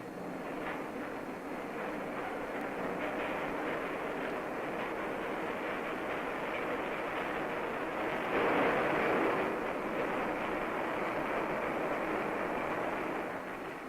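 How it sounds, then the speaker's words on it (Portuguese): Loaded wagons roll along the rails of a 1940s South African mine tunnel, a steady, faint rumbling clatter that swells briefly partway through. "Demora vários minutos para os vagões carregados chegarem ao poço principal."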